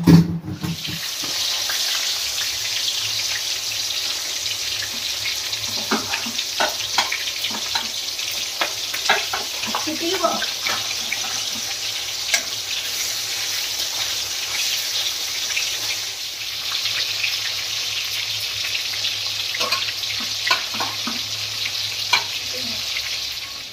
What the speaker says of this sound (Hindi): माछ मैरिनेट हो गला हलदी लुण तापर खाली फ्राए करा जिवो